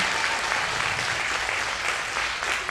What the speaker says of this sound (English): can we get a round of applause for that demonstration?